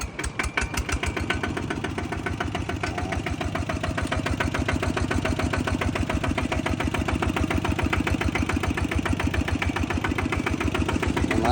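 A machine engine idling after an oil change, a steady close putter of rapid, even firing pulses that runs throughout at a consistent level.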